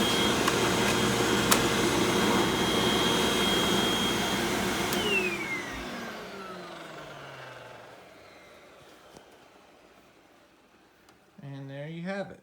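A Eureka The Boss Smart Vac 4870 MZ-2 upright vacuum cleaner roars steadily nearby, then its motor whines down in pitch and fades to near silence before a voice begins at the end.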